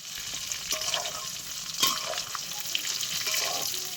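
Chicken pakoras sizzle steadily in hot oil, a dense crackling hiss with occasional sharper pops and stirring scrapes, close and continuous.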